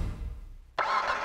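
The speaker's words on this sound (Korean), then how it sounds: "배기음은 나쁘지 않습니다." The Annis ZR350 in GTA 5 sits in near-quiet for a moment before its engine fires abruptly, settling into a loud, steady exhaust rumble close by.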